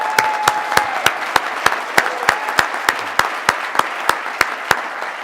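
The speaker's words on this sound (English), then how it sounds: "Let's give them a round of applause." Audience applause in the hall at the opening plenary of the 2018 National Bike Summit: sharp, evenly spaced claps in a steady rhythm, moderately loud and close, with a brief faint tone near the start.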